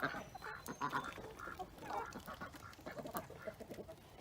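Ducks quack and honk in a farm pen with a steady, overlapping chatter of calls. The sound is faint and distant and runs continuously for several seconds.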